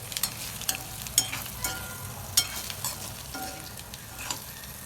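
Boiled egg bhurji being stirred into masala in a pan, a steady soft sizzle with scattered scraping clinks of a spoon against the metal, close and alone without talk.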